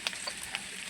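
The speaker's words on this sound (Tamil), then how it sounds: "உப்பு போட்டு கொஞ்சம் அப்படியே கிளறி விடலாம்." Potato fry in oil with added salt gets stirred in a pan, a faint low sizzle with a few light scraping taps over less than a second.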